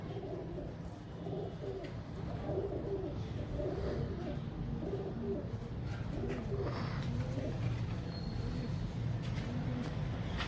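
Pigeons coo repeatedly in soft, throaty rolling phrases, several birds close by calling over a steady low background rumble.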